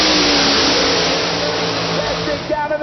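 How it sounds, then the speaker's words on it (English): A Pro Extreme Chevrolet Corvette drag car at an ADRL Pro Drag Radial event roars with a loud, sustained engine blast that fades slightly toward the end, with a track announcer talking over it. "Tim Lynch ignites the Chevrolet Corvette into the field."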